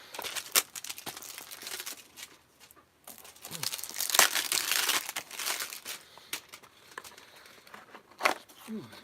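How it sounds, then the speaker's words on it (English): Cardboard box of extra-long security drill bits for a Metabo HPT tool being torn open up close, with irregular bursts of crinkling and ripping separated by brief pauses. "So let's tear into the box, okay?"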